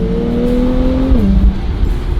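A Nissan Z NISMO's engine and exhaust hum at steady revs from inside the car, then the pitch drops as the revs fall, leaving a low, throaty rumble with road noise.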